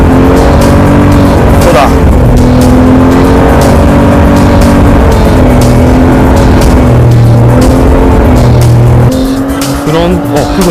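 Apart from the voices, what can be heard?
heavyweight sports car driving on a race track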